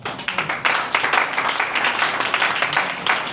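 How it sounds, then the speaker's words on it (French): An audience claps together for a father called forward at a talk, a brisk, fairly loud burst of applause with a steady rhythm, close and lively throughout. "Est-ce qu'on peut applaudir pour papa?"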